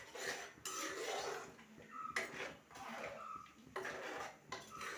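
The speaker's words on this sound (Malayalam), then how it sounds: "എന്നിട്ട് ഇത് നന്നായിട്ട് മിക്സ് ചെയ്തെടുക്കുക" Crab curry masala stirred with water in a pot, a spoon scraping and clinking against the metal in short repeated bursts, quiet and close with no talk.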